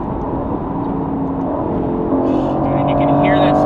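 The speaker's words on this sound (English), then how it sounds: "You can hear that sport exhaust open up and bellow throughout the cabin as we exceed a very nice speed." Aston Martin Vantage with its sport exhaust open, a loud, continuous engine drone rising in pitch as the ZF 8-speed gearbox upshifts under acceleration, heard from inside the cabin.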